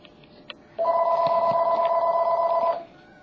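A landline house phone rings loudly indoors, one sustained electronic trill lasting about two seconds after a couple of faint clicks, then fading into quiet room tone.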